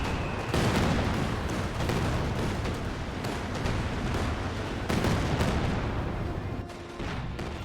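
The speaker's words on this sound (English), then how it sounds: "We've got the Katyusha Barrage now running on in" Katyusha rocket barrage in Company of Heroes 2, a dense, loud rolling roar of launches and blasts with sharp onsets around the start and midway, sustained without talk.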